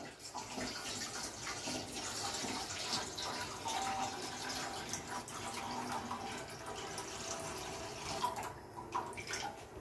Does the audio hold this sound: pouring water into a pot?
yes